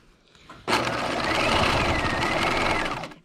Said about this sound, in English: All right, we're gonna back stitch here.